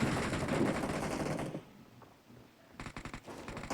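Gunfire in a PUBG Mobile firefight comes first as a dense volley, then fades to a quiet lull, and a second burst of rapid, sharp shots follows.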